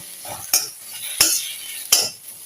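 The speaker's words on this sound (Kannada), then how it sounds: "ಟೊಮೆಟೊ, ಈರುಳ್ಳಿ ಇದೆಲ್ಲ ಮಿಕ್ಸ್ ಆಗಿ ನಿಮ್ಗೊಂದು 5 ನಿಮಿಷ ಅದನ್ನು ಫ್ರೈ ಮಾಡಬೇಕು." Tomato and onion mixture for a paneer vegetable korma frying in a pan, a soft sizzle broken by three sharp scrapes and clinks of a spoon stirring against the metal at an even pace.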